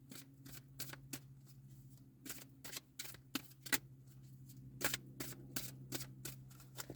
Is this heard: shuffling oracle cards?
yes